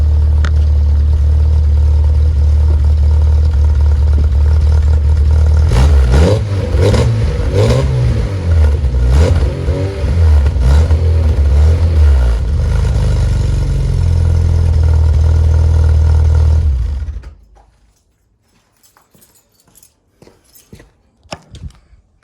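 A 1995 Rover Mini engine revs hard up close, rising and falling in several throttle blips over a steady idle before cutting off abruptly, leaving near silence with faint ticks.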